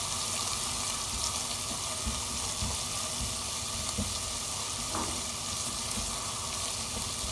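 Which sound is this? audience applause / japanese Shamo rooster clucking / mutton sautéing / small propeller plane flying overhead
mutton sautéing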